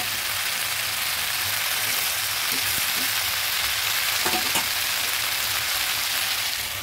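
Vegetable stems sizzle steadily in a hot pan as they are gently stirred by hand, with a continuous frying hiss and a few soft scrapes and clinks of the spoon near the middle.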